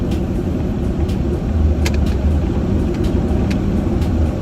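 Twin-turbo LS-swapped Mazda RX8 driving through a blizzard, a loud steady engine drone and road rumble heard from inside the cabin, with faint clicks and ticks over the continuous noise.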